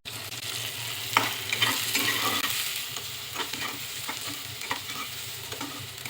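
Chopped onion, garlic and slit green chilies sizzle in a hot pan, with frequent scraping stirs and sharp spatula taps over a continuous close frying hiss, no voices.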